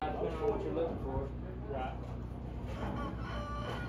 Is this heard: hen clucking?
yes